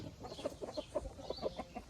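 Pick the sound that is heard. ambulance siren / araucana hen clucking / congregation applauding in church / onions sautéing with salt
araucana hen clucking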